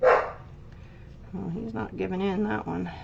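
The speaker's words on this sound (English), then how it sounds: "I don't know if you can hear the dog barking" A dog barks and yips in a short loud burst at the start, then someone talks over faint background while the dog stays mostly quiet.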